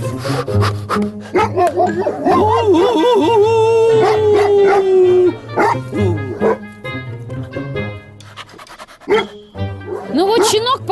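A Caucasian (Karachay) shepherd puppy howls in long wavering cries mixed with yips, whimpers and panting, loud and close, with a person talking over parts of it.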